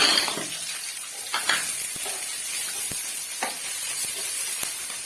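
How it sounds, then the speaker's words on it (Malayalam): Ginger, green chili and garlic sauté in about two spoons of coconut oil: a bright, continuous sizzle broken by several scrapes and knocks of a spoon stirring in the pan. "2 സ്പൂണോളം വെളിച്ചെണ്ണ ഒഴിച്ചിട്ട് ഈ ഇഞ്ചി, പച്ചമുളക്, വെളുത്തുള്ളി ഇതെല്ലാം കൂടി നമുക്ക് ഒത്തിട്ടൊന്ന് വഴറ്റിയിടാം"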